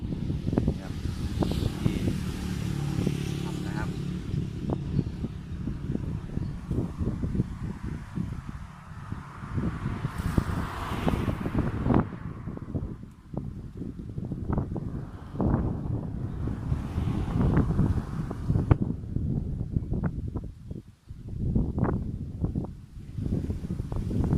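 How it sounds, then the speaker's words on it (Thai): Strong wind buffets the microphone outdoors in rough, continuous gusts that swell and dip, with a voice speaking at times beneath the roar. "ลมแรงครับ"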